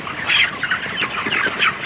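A flock of chickens squawking and clucking continuously, a dense chorus of overlapping calls with steady background hum, no talking.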